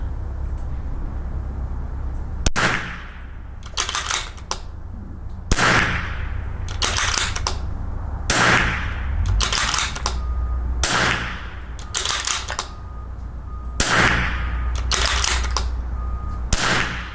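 Rifle shots from .22LR Lapua Long Range and Super Long Range ammunition fired at a target 200 yards away, about six sharp, loud reports spaced a couple of seconds apart over steady outdoor background noise, with no talking.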